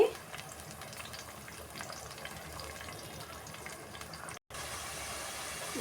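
Fish curry (chepala pulusu) bubbling and simmering in a pot, a steady soft sizzle and gurgle with faint crackles, continuous and fairly quiet, with a brief dropout near the end.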